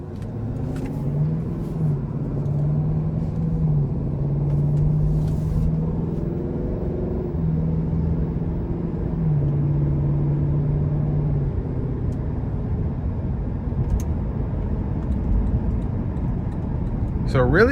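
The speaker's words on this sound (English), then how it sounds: "So really good sound coming from the car overall, even in comfort mode." A 2021 Lexus LC500 Convertible cruises on the road in comfort mode, its engine giving a steady low drone with gentle rises and shifts in pitch, close and continuous throughout.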